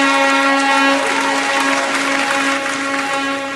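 A crowd at Nyayo Stadium applauds steadily during a youth charter signing event, a dense, continuous clapping wash with a sustained tonal hum running through it.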